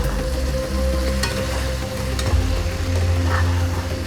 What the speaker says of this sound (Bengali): ঢাকনাটা খুলে আবারও একটু নাড়িয়ে দেব।